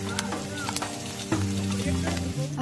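Fish from Segara Anak lake fries in a pan for dinner in a tent at a Mount Rinjani camp, with a steady sizzle, some utensil clatter and a faint voice in the background.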